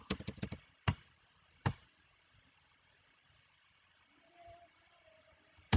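Computer keyboard keys tapped while writing code, a quick cluster of sharp clicks at the start, then a few isolated keystrokes separated by quiet pauses, close and crisp.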